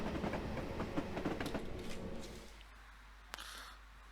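Class 421 electric train passing on the Portsmouth Direct Line, a loud close rumble with clattering wheels and bursts of rail noise that fade off after a couple of seconds, followed by a sharp click.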